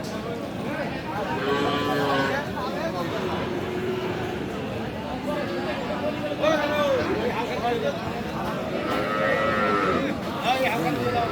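Cattle at a busy weekly livestock market, where Friesian–Sahiwal cross bulls and calves are sold. Long bovine moos rise several times through a constant crowd babble, with people talking nearby.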